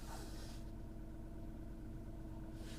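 A 2018 BMW G80 3-series with a 3.0-litre engine idles with a misfire on cylinder two, giving a low, steady, uneven rumble heard close up with no talking.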